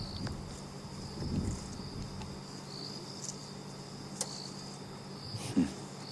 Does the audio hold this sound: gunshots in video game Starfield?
no